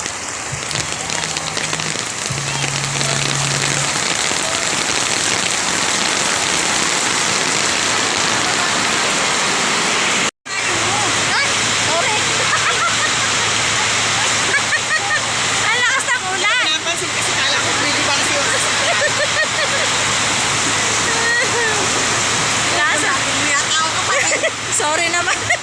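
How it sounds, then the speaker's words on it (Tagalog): Heavy rain pours steadily and loudly in Tagaytay City, a dense continuous hiss of water on surfaces that cuts out for a moment midway and then resumes, with a low hum underneath. "Nabot pa kami ng ulan."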